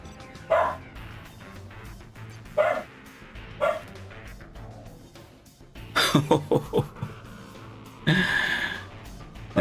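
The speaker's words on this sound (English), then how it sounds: "Me dog barking away at something." A dog barks indoors in a room, with several loud barks separated by pauses, then a rapid burst of barking, heard fairly close.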